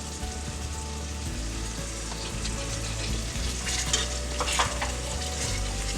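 Tomatoes hitting hot oil with frying spices in a pan for a pressure-cooker vegetable biryani, giving a steady, close sizzle with stirring scrapes throughout and no talking.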